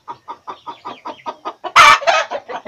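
Native chickens in a coop clucking in a steady, rapid series of close, loud calls, with a brief louder squawk from one bird partway through.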